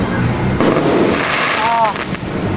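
Fireworks crackle and pop during a religious procession, dense outdoor bursts under nearby voices.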